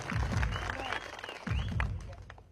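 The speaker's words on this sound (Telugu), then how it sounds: "రాసేటువంటి మిత్రులు వాళ్ళకు కూడా గట్టిగా చప్పట్లతో మనం వందనాలు తెలియజేద్దాం" Audience clapping at a public Telugu song gathering, a dense patter of hands that swells twice with strong low thumps and holds steady, with voices mixed in beneath the applause.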